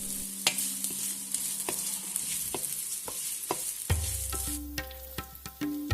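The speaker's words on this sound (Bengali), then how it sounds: "আমি দিয়ে দিচ্ছি বিটরুট। ততক্ষণ ভাজতে হবে যতক্ষণ না এটা স্লাইটলি আপনার নরম হচ্ছে।" Chopped beetroot and coconut frying in a pan for a vegetable chop filling, a steady sizzle broken by sharp spatula scrapes and clinks as it is stirred, with a low hum joining near the end.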